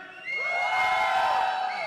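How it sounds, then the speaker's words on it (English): A live crowd at a gaming event cheers, whoops and shouts loudly together in one sustained roar, swelling quickly and holding for a moment. "3, 2, 1, make some noise!"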